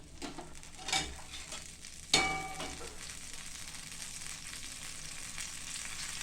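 Oil with red chilli powder fries in a pan for pav bhaji, a continuous crackling sizzle broken by two sharp clanks of utensil against the pan.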